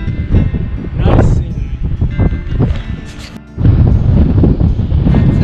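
Strong wind buffets the microphone on a coastal lookout above big ocean waves, a loud continuous roar with gusts. A brief lull comes before the roar returns.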